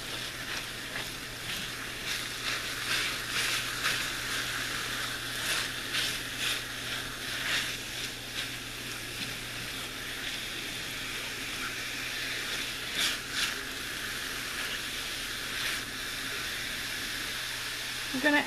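Food browning with oregano sizzles in a pan, a steady close hiss with bursts of crackling and faint clatters throughout, beneath a low hum.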